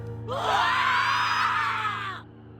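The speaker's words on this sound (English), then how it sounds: "Trapped inside the cable car, we could do little more than scream." Characters in the video game Digimon Survive, trapped inside a cable car, let out one sustained, loud, shrill scream together that lasts about two seconds before cutting off into quiet.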